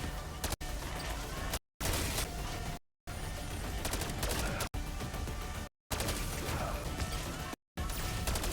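Rapid gunfire and bursts from a Black Ops 7 zombies match on Mars, loud and dense, with short gaps of silence between volleys as UFOs are shot down.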